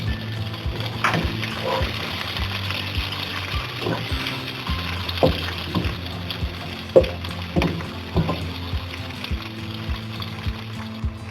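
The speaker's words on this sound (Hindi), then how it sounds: "अब हम इसमें टमाटर ऐड करेंगे" Tomatoes fry with spices in a pan for aloo moongray, giving a steady close sizzle broken by scraping stirs and occasional clinks of a spoon against the pan.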